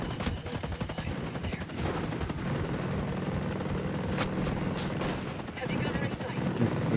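Rapid gunfire in the tactical shooter Ghost Recon Breakpoint, bursts crackling over a steady dense battle din for several seconds with a few sharper cracks, under voices in the mix.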